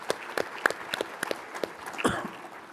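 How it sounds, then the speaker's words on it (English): Scattered applause from an audience of state legislators at a policy association meeting, a few distinct claps with sparse, uneven rhythm, fairly quiet and brief rather than a full ovation. "So if anybody deserves a round of applause, not those people there, you do."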